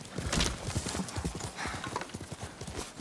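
A horse's hooves clip-clop in a quick, steady rhythm while it is ridden in the samurai game Ghost of Tsushima. The hoofbeats are close and continuous throughout, with a faint whinny-like tone underneath.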